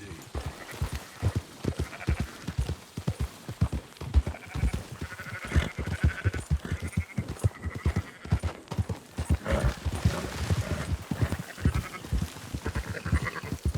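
Sheep bleating in Red Dead Redemption 2 while a flock is rounded up, the calls mixed with busy clip-clopping hooves and livestock noise throughout.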